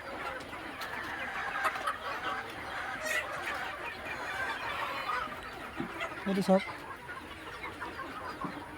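Household chickens in a home coop cluck and murmur steadily through a busy farmyard background, with a few sharper calls near the end, while someone talks over them.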